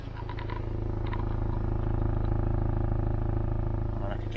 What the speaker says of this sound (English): See if you can hear the exhaust.